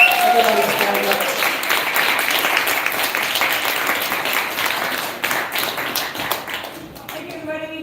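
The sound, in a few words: audience applause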